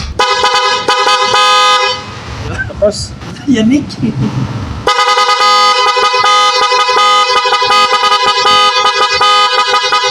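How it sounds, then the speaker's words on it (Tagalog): A loud horn on a blow pump vehicle blares in long sustained blasts, broken briefly by laughter and talking before the honking resumes at full volume. "Testing muna natin yung busina kung gaano kalakas."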